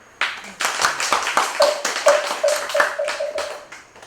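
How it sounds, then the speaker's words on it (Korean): Applause at a Buddhist university entrance ceremony: steady clapping from a gathered audience, a dense run of hand claps lasting several seconds with a faint tonal ring partway through. "자, 박수."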